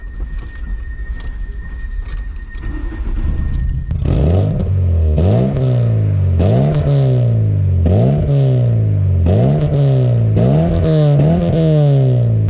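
A 1999 VW Golf Cabriolet 1.6 engine with a blowing exhaust cranks and catches, then idles roughly with a loud, pulsing exhaust chuff repeating steadily, close up.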